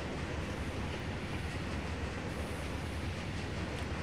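A train running on rails in the Trainz A New Era driving game, a steady dense rolling rumble with faint clickety wheel noise, constant and moderately quiet, no talking.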